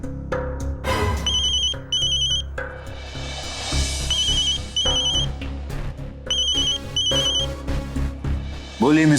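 A phone ringtone rings in repeated beeping bursts with short gaps, loud and close, while background music and a few sound effects carry on underneath, in a Hindi TV drama scene.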